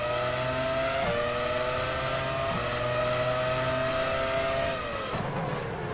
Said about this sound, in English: the revs aren't ideal, are they? Just hope it doesn't blow the engine